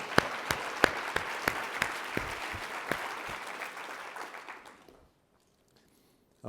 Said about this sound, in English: how about a great round of applause for Gail for another great conference?